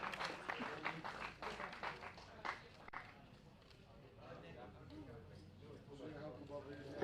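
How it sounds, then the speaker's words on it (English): An audience claps at a kart race, a burst of scattered applause up front that thins out and fades under a voice speaking over a loudspeaker. "ladies and gentlemen, one last applause please"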